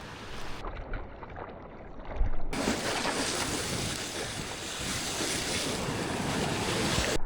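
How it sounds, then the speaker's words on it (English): Steady rush of surf with small ocean waves breaking nearby at Torrey Pines, mixed with wind buffeting the microphone, continuous and fairly loud throughout. "Since the waves are this small"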